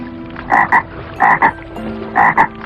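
A frog in a cartoon moral story croaks in three evenly spaced double bursts, loud and close, with no talking over it.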